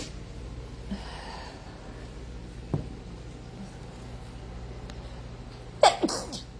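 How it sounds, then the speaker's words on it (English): A single sharp human sneeze bursts out near the end, close and loud, after a stretch of quiet room tone with faint breathing and small handling noises. "now I'm gonna have a sneezing fit"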